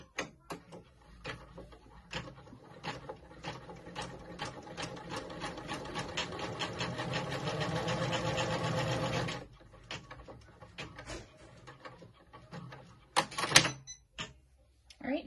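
A Janome embroidery machine stitches an appliqué design in a steady, rapid mechanical rhythm for about nine seconds, then stops, leaving a few scattered clicks and knocks nearby.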